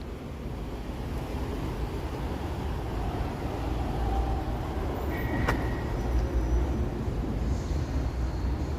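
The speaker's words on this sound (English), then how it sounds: "Yeah, it's just traffic gridlock here." Gridlocked city traffic in Toronto makes a steady, moderate rumble of idling and slow-moving vehicles, with a broad wash of road noise and a brief higher tone partway through.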